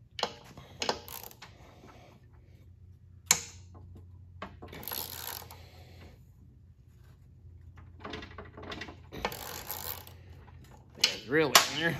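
Wrench working on a stuck Honda trash pump: sparse metallic clicks, clanks and scrapes scattered over about twelve seconds, mostly faint and close, with quiet hiss between the knocks.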